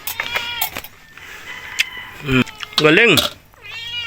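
A house cat meows twice with drawn-out, rising and falling cries, loud and close, after a stretch of indoor talking and small household noises.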